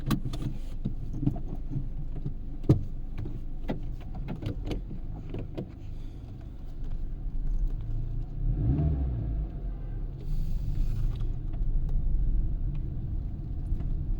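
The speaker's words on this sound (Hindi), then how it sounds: "अब एक बार गाड़ी चला के देखते हैं कि गाड़ी चलने में कैसी है।" Honda Amaze manual sedan engine running and pulling away from inside the cabin, a low steady rumble with a few sharp clicks and knocks early on and a gentle rise in revs later.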